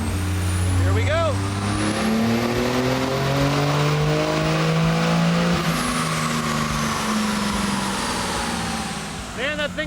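A Ram 3500 Cummins turbo diesel pickup runs hard on a dynamometer, its engine roaring loud and steady as revs rise and fall, with turbo whine and a high whistle over the drone.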